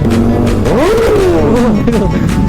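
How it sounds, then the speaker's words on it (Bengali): A Benelli 600i superbike roars close by, its exhaust note sweeping up and then sliding back down in one long rev, with crowd noise and other bikes in the background. "ভাই বেনেলি সাউন্ডটা শোনো"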